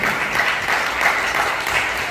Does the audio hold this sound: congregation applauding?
yes